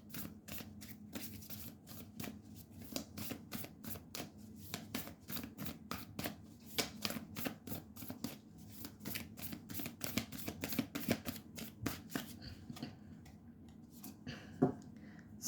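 Oracle cards being shuffled by hand, a steady run of crisp riffling flicks repeating close up over a low background hum.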